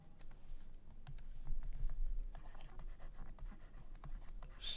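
Pen writing out a math substitution step on paper, giving faint scratchy strokes and light taps in an irregular rhythm over quiet room noise.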